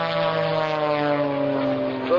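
A Sukhoi SU-29 aerobatic airplane climbs in a vertical line at an air force base open house air show, its propeller engine giving a steady, loud drone with harmonic tones that rise slightly in pitch throughout.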